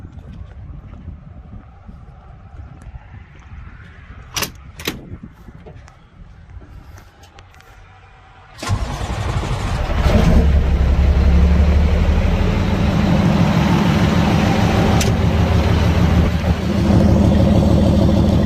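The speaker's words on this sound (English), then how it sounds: "We'll jump back inside and we'll start it up so you guys can hear it run." The diesel engine of a 2007 International 9200 truck cranks and fires up after a quiet stretch, then settles into a loud, steady, rumbling idle.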